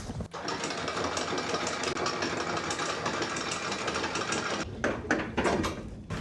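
Windelo 50 sailing catamaran motoring out under engine, a steady mechanical drone that holds at a fairly even level throughout, with a brief dip near the start and some wind or water noise late on.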